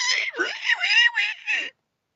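A voice imitates a pig's squeal with a series of shrill, wavering squeaks, several quick bursts over about two seconds, close and fairly loud.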